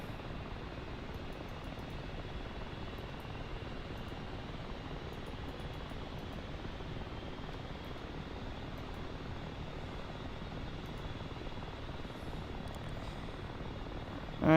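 Helicopter turbine engines spooling up in a flight simulator game, a steady broadband whine and rotor rush held at an even level throughout, with no talk.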